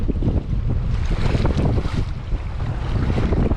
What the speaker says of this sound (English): obviously this wind is ridiculous